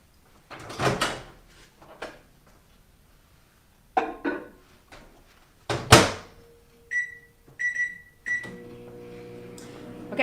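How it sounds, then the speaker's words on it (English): A kitchen microwave oven is shut with a couple of clunks, beeps as it is set, then starts up with a low steady hum after a short series of tones, with no talking. "we're going to put that in the microwave"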